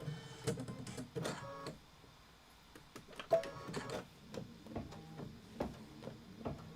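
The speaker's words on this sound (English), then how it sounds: "And then we're going to stitch out the lettering." A home embroidery machine stitches out lettering, giving faint, quiet mechanical clicking and whirring in uneven bursts with short pauses, no speech over it.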